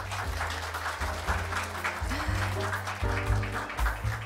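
An audience at a forum applauds in a steady clatter of many hands clapping, kept up through the whole stretch while rhythmic music plays along underneath.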